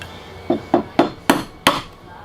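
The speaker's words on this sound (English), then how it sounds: "whack it with a chisel, and I end up with that." Five sharp whacks of a chisel struck against a clamp during a bajo quinto guitar build, spaced unevenly and getting louder toward the end, close and alone with no talk.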